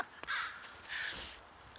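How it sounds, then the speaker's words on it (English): Crows cawing in the background outdoors in Portland, Oregon, two drawn-out harsh calls set a moderate distance off, with a faint outdoor hush between them and no talking. "don't mind the crows in the background or the seagulls"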